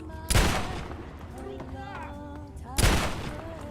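Two loud, booming gunshots in the Fallout 3 video game, spaced a few seconds apart, with game sounds and speech running between them.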